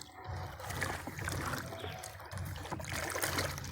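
Caustic soda is stirred into a liquid bleach mixture, giving a continuous swishing, sloshing swirl of liquid that pulses gently as the stirring moves around the container.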